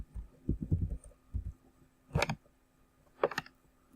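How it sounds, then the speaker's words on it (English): Fingers typing a web address on a computer keyboard, heard as a few separate short bursts of clicky keystrokes with quiet gaps between them, close and fairly soft. "So I'm going to go to my browser bar and type in C.E.B.financial.com."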